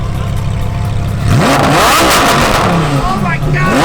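Lamborghini 720S Spider engine revving hard close by, a sudden loud roar that climbs and falls through several pitch sweeps over steady background rumble.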